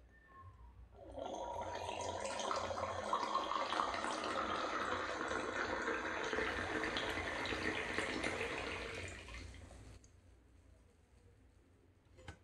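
Wine pours from a bottle fitted with an aerator into a Kiddush cup, a close, soft, steady gurgling stream lasting about nine seconds before tapering off, quiet and intimate in an ASMR setting.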